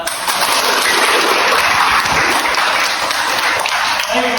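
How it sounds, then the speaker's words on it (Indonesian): Audience applause at a university teaching session, a sustained wash of clapping hands that holds steadily and fades slightly near the end. "Beri tepuk tangan untuk Mbak."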